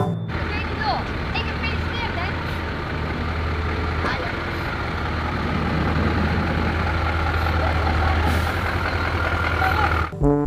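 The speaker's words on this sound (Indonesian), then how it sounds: "Di sini ada truk kargo." A cargo truck runs with a continuous low engine drone and a hiss of air, steady and fairly close for several seconds, ending in an abrupt clunk.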